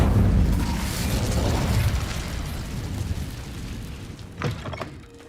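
An Incendio fire spell in Hogwarts Legacy roars out as a loud, broad whooshing burst of flame that slowly fades, followed by a short crackle near the end.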